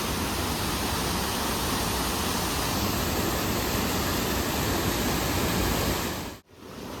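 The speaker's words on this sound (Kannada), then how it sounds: "ನೋಡಿ ಇಲ್ಲಿದೆ ಫಾಲ್ಸ್," A small waterfall in Uttarakhand makes a steady, dense roar of falling water, constant and close with no talk, briefly dipping near the end.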